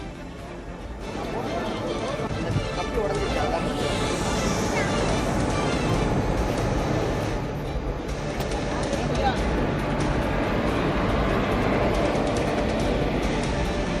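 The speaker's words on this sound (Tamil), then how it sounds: "ரயில் போக்குவரத்து தொடங்கிய காட்சிகளையும் பார்க்கிறோம்." A train rumbles steadily along the Karaikal–Peralam railway line, a dense continuous roar with rattling and clatter, close and loud throughout.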